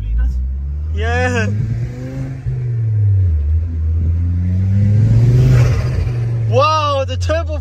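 The turbocharged engine of a 2010 Ford Focus ST revs up loudly and holds a steady drone close to the microphone, with people talking excitedly over it and rising and falling whooshing sounds near the start and the end.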